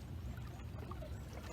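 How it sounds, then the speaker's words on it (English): Water poured into a bucket during outdoor stream field work collecting macroinvertebrates, a steady close splashing pour with a low rushing wash, no talking. "I'm going to fill the bucket about 1/3 of the way."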